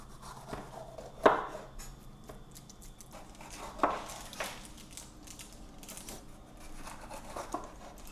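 A knife cuts tomato and green and yellow bell peppers into thin rings on a board, giving a few distinct soft chops and taps separated by quiet pauses, close and fairly faint.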